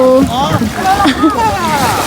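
A trawler's engine drones steadily beneath voices as the boat crosses open water toward Sonadia Island, with people talking close by throughout.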